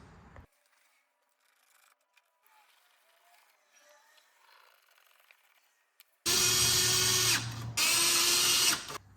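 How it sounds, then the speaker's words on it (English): Power tool tightening bolts on a BMW K1200LT motorcycle during air filter service: after a quiet stretch of faint handling noises, two loud close bursts of ratcheting, whirring drive, the second shorter. "Then we can go ahead, work our way around and tighten up all those bolts."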